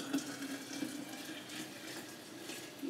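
Boiling water poured from a kettle into a glass jar for canning maple sap, a steady close pouring stream with a faint rising fill tone, alone and without talk.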